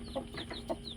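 A native hen out with her five chicks clucks in short, soft bursts, several calls spaced across a moment with a faint higher chirping over a steady low hum.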